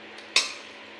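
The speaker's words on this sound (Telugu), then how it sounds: "ఇది ఇప్పుడు పచ్చట్లో వేసి కలుపుకుందాం" A spoon clinks once against a bowl while stirring tempering into a chutney, one sharp close metallic knock that rings briefly and fades into quiet.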